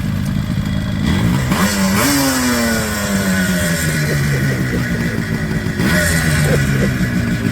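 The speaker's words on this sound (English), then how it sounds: "Give it a rev, give it a rev." A classic motorbike engine revs on a ride through Scotland, a loud close rising and falling drone with several throttle blips and gear changes, no talk.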